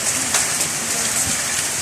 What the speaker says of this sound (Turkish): Yağmura bak yağmura. Döküyor, döküyor.